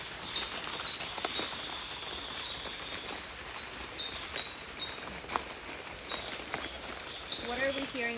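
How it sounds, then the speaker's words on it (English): Glassy frogs calling in a Costa Rican jungle, a high, continuous chirping chorus with short repeated call notes over constant insect-like buzzing, with faint rustling and a brief voice near the end. "We are hearing right now like 4 different ones, and those are the species what we call glassy frogs."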